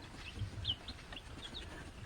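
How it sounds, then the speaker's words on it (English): Young chicks and a rooster on a newly stocked homestead make soft, scattered clucks and chirps, close by and fairly quiet, with no talking over them. "We're assuming that's a rooster."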